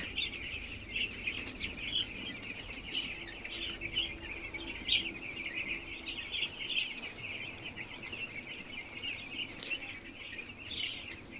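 Freshly vaccinated chickens cluck and chirp continuously in a farmyard, a steady mid-distance chorus of soft calls without voices.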